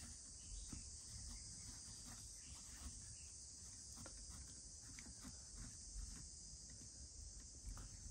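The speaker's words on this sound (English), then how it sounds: "You may even be able to hear the cicadas, which are so noisy this year." Cicadas drone through open windows on a summer day, a faint continuous high buzzing that holds steady the whole time, with soft scattered background rustles and no voices.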